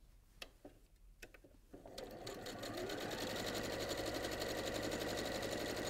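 A sewing machine tacks layers of Liberty fabric for a needle case, starting with a few sparse clicks and then settling into a loud, steady, fast mechanical whir of stitching that runs to the end.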